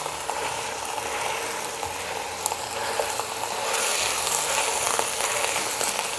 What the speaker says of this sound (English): we're about halfway through on browning this sausage and burger